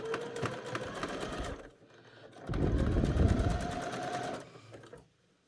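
A sewing machine runs a zigzag stitch around a skirt seam, two fast mechanical bursts of rapid needle clatter separated by a short pause, close and steady before stopping.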